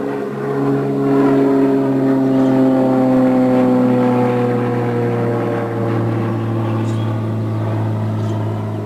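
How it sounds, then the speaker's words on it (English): A propeller airplane drones overhead, a steady, fairly loud engine hum that slowly shifts in pitch, with no talking. "An airplane flying overhead."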